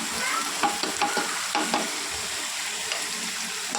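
Ground spices—chilli, turmeric, cumin, coriander, Kashmiri chilli and salt—sautéing in hot oil for a katla fish curry, a close, dense sizzle with quick scraping stirs early on, then a steadier fry.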